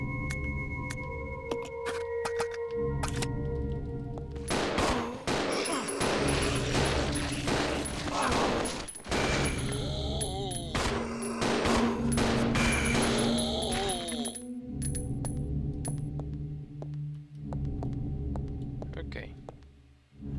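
Gunfire in the video game Resident Evil Zero comes as sharp repeated shots amid game music and droning ambience, with someone speaking over parts of it.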